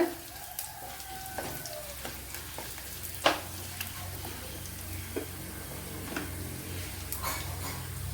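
Dried red chillies fry in hot oil with a soft, continuous sizzle, marked by scattered ticks and crackles and one sharper pop, close but fairly quiet.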